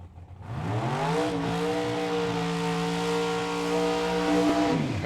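A 1968 Firebird and a 1996 Corvette launch in a drag race at the Hangover Nationals. Their engines swell into one loud, close, sustained roar that climbs in pitch and then holds steady.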